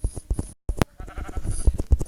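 Repeated Minecraft sheep bleats in short bursts, fairly close, with a brief silent gap midway and a sharp high click; no talking.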